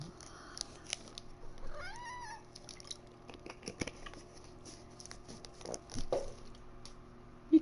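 A cat makes a short rising meow partway through, then scattered soft taps, rustles and a sharp knock at the end in a quiet room.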